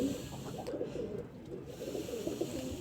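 A pigeon handled while its feathers are dyed, giving soft low coos amid rustling and handling noise, close and faint throughout.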